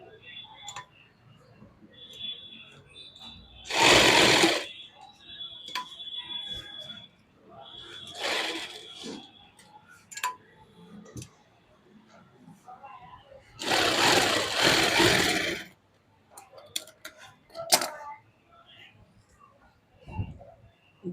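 Sewing machine stitching a lined suit in short bursts of fast, rhythmic ticking, quiet and close, separated by pauses with soft handling noises and a voice talking in between.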